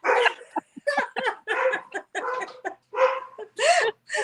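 A dog barks repeatedly in quick, uneven bursts, close and loud, with short yips and a whiny rising bark near the end, dominating the scene with no speech over it.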